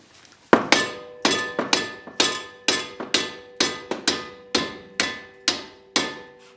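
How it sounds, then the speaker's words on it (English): A hammer repeatedly strikes the metal strut of a Chevy HHR, roughly a dozen sharp ringing metallic blows in a steady rhythm, loud and close, with no talking. "you can just hit that with a hammer."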